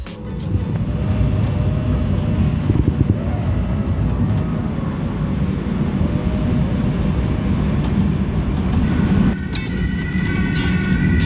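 A steady low rumble and rattle of an airport shuttle train in motion between a train station and the terminal, heard from inside the car, with a brief screech and a tonal whine near the end.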